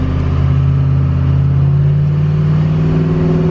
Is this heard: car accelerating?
yes